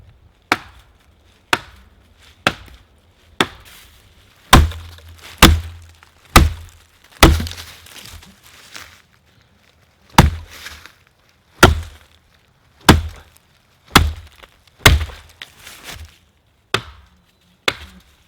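An axe chops wood in a forest, about fifteen sharp thunking strikes at a steady, unhurried pace, loud and close, each blow dying away quickly into near silence.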